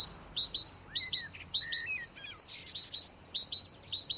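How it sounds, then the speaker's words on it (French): A great tit sings a clear, repeated two-note phrase, bright and rhythmic, with a few brief chatter notes mixed in, fairly close against a quiet background. "les femelles mésanges charbonnières savent aussi chanter"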